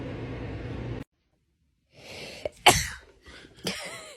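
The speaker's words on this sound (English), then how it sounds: "Oh, I sneezed." A single sharp sneeze bursts out close to the mic after a stretch of silence, in a dark room by an open window, followed by a second breathy, snorting burst and some rustle.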